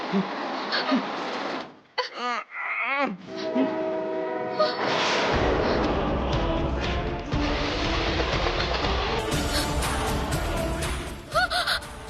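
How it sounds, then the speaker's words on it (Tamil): A train draws near with a loud horn blast and growing rumble of wheels on rails, while someone gasps and speaks anxiously over it. "ஐயோ ட்ரெயின் கிட்ட வந்துருச்சு."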